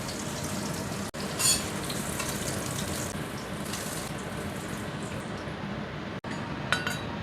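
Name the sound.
stir-frying food in a pan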